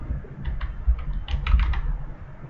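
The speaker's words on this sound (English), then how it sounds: "you want to type in the next drug that you need to do" A drug name is typed on a computer keyboard into hospital order-entry software. A quick, close run of light key clicks sounds over a low background hum, with no speech.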